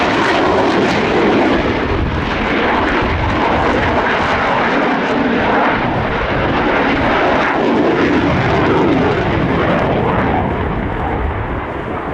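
F-16 fighter jet performing a flying display at the Royal International Air Tattoo 2023, a loud sustained roar of jet engine noise filling the whole stretch without talk.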